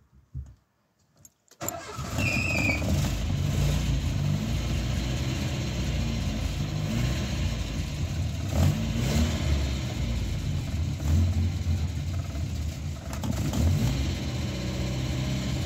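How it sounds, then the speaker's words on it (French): A petrol Citroën BX engine running on ethanol idles steadily and loudly close by after a short start, with a constant mechanical drone and occasional faint higher whines, no talking over it. "il va très bien, ce moteur"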